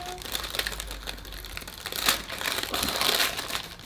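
A taped package being opened slowly: close crinkling and rustling of packaging with scratchy tearing of tape, building in the middle and toward the end, without talking.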